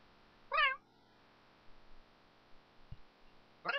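Two short cat meows from The Sims 3 video game, one near the start and another at the end, separated by quiet with faint ticks and low hum in between.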